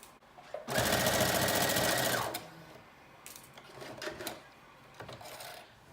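A domestic sewing machine runs in one steady burst of rapid stitching along the gathered line of a McCall's 7569 mermaid prom dress, then stops, leaving faint handling rustles and taps.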